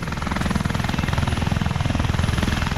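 A T929 heavy attack helicopter in flight, its rotor beating in a fast, steady rhythmic chop over a loud engine whine, close and constant.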